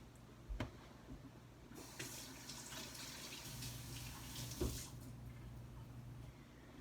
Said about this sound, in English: Just gonna rinse my hands.